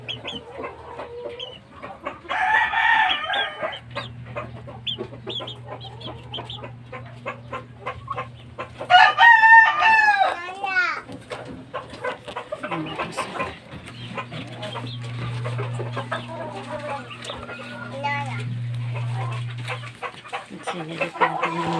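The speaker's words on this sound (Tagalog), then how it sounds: "Malalaki na yung mga sisiw natin" Fighting-rooster chicks cheep and cluck nearby in bursts, with a louder flurry of chirps partway through, over a low droning hum and occasional talking.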